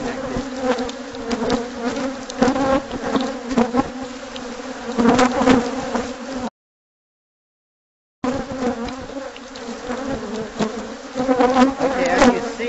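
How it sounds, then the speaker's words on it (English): A dense swarm of honeybees drones steadily around a large, long-established hive in San Diego, loud and close, continuous buzzing with no talk, briefly cut out by a gap of silence partway through. "Okay, as you see, this hive has been here for quite a while. There's a huge hive in this."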